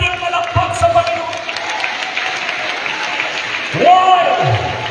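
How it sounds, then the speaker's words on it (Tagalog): A church congregation claps in a steady wash of applause while a preacher's voice carries over it, and the clapping swells toward the end. "Sige, dagdagan pa natin ang ating palakpak sa Panginoon"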